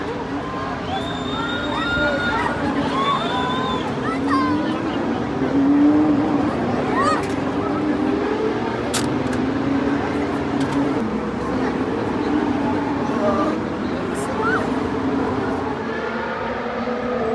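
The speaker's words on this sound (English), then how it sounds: "you can just see in the centre and at the bottom cars going by" Cars pass on a road near a race stadium in Mexico City, a continuous traffic rumble mixed with distant crowd noise, engine revs and whistles, with people talking throughout.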